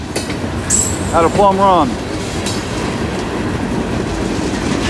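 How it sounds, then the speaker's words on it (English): A freight train hauling railroad ties and rock cars rolls past a crossing, its loud steady rumble and clickety-clack close by, with a squeal or horn-like tone briefly rising and someone speaking over it. "Here comes railroad ties from McCoy Lumber and Peebles. These 2 cars here. And then the rest of the train is rock from Heidelberg Materials"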